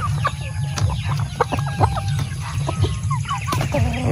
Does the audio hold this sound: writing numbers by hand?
no